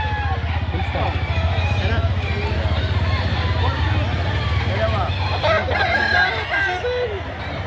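Roosters and other chickens crow and cluck in a busy fowl market in Lipa, Batangas, amid constant crowd babble and close conversation.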